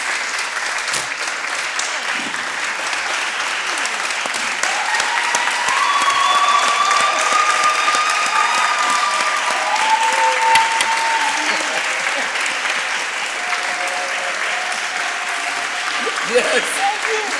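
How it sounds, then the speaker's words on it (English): Sustained applause from a summit audience, steady and dense for the whole stretch, with scattered cheers or whistles rising above the clapping. "I want us to give a special applaud to Silvana and to the WPL."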